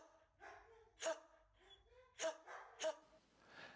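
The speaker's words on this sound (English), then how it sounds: "Other dogs may choose a more assertive response by barking at you to feed them." A dog barks at its owner to be fed, giving three short, sharp barks spaced about a second apart with soft whines between them, close by and fairly quiet.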